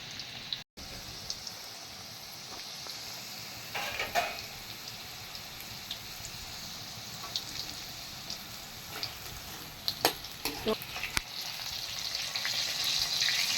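Ivy gourd 65, spiced pieces deep frying in hot oil, gives a steady close sizzle with scattered small pops and crackles that grow slightly busier toward the end.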